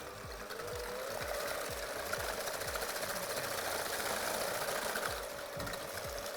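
Hand or stand mixer beating gluten-free chocolate cake batter, a steady whirring motor drone with a rapid rattling pulse running continuously, fairly close, with no voices.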